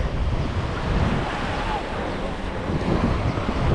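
Ocean surf at Freedom Beach in Phuket, Thailand, rolls in as a steady broadband wash, loud and close, mixed with gusts of wind buffeting the microphone.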